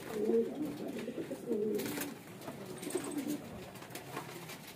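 Pigeons coo in repeated soft, throaty rolls, several birds close by, rising and falling in short phrases against quiet surroundings.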